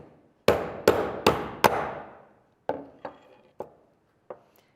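A hammer strikes the punch of a Pepe disc cutter, four loud, sharp metallic blows in quick succession followed by four softer, more spaced taps, each ringing briefly in a quiet room.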